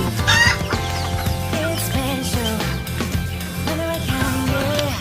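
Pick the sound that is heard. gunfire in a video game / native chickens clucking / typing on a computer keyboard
native chickens clucking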